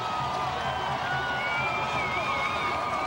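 A stadium crowd at the 2008 Hula Bowl college football game makes a steady, distant roar with faint cheering, and thin whistling tones float above the murmur.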